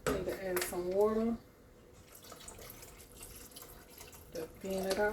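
A voice speaks briefly, then water splashes and trickles steadily into a pan for a few seconds before talking resumes.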